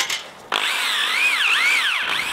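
A power drill bores into a log for mushroom growing, a short whir followed by a loud, sustained high whine that dips and rises as the bit bites into the wood, then cuts off near the end.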